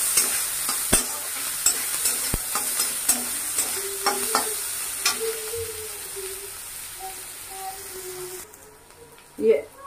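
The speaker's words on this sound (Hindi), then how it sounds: "हमारा प्याज गोल्डन ब्राउन होने तक भुजा गया है" Onion frying in a pan until golden brown, a steady sizzle broken by scattered clicks and scrapes from stirring, with someone talking softly over it.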